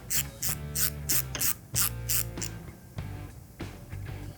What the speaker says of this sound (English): get an extension onto a standard ratchet